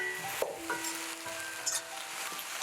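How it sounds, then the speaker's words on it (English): Wiri peppers and spices fry in oil for a chickpea and eggplant curry, a quiet continuous sizzle with occasional light stirring clinks of a utensil against the pot. "this process here where it's being cooked in the oil bunjaying"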